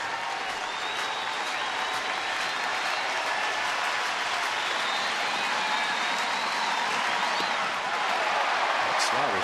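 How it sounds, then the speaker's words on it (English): Baseball crowd at an Angels–Rangers game applauding the final out, a steady dense wash of clapping and crowd noise held at even loudness throughout. "Fans are getting tired of giving that last round of applause for the final out."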